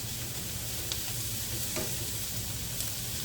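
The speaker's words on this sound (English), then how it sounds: "we're gonna just kind of stir that around for about a minute until it becomes fragrant" Garlic frying in oil in a pot for braised chard with gnocchi, peas and leeks, a dense steady sizzle with occasional faint spoon clicks as it is stirred, close and without speech.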